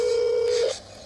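Telephone keypad dialing, a single sustained DTMF tone followed by a brief shift and a faint line hiss as it cuts off, close and clear with no talk.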